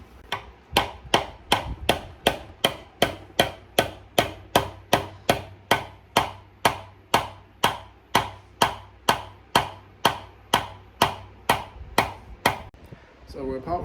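Hammer strikes while assembling a Go Power Sports Rascal mini bike, about two dozen sharp metallic blows in a steady even rhythm, close and loud, with no talking.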